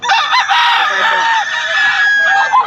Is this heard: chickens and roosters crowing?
yes